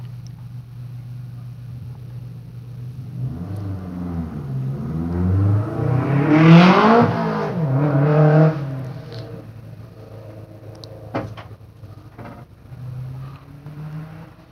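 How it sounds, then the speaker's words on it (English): Mitsubishi Evo 7 racing up a hillclimb track at the Legend of the Lakes event, engine note rising and falling through gear changes as the car passes fairly close, then fading into the distance. "Martin Radford's on the track now in the Evo 7 Mitsubishi."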